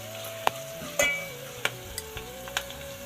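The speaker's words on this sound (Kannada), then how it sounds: "ಹಸಿ ಸ್ಮೆಲ್ ಹೋಗೋವರೆಗೂ ಫ್ರೈ ಮಾಡ್ಕೋಬೇಕು." Ginger and garlic fry in a pan for tomato gojju with a steady low sizzle, punctuated by several sharp clicks and scrapes of a spoon stirring against the metal.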